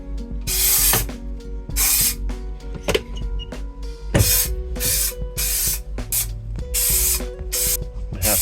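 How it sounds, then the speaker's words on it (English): Spray glue adhesive hisses out of a can in a series of short, close bursts separated by brief pauses, with faint rustling and handling noises between sprays. "We're gonna spray this in here."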